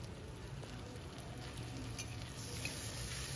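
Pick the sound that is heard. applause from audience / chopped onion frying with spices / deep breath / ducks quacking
chopped onion frying with spices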